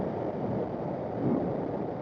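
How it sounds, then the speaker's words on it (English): Strong wind roars over a moving motorcycle at around 50 to 60 mph, a dense, steady rumbling buffet that fills the whole stretch without pause or talk. "It's very, very windy."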